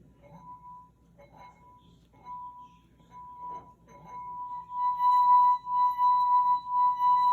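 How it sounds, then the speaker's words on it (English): A wet finger rubbing the rim of a wine glass held down at its base, starting with faint squeaky rubbing and building into a clear, sustained ringing tone that grows louder toward the end. "Now I am holding down the bottom of the wine glass so that it doesn't slide around while I play."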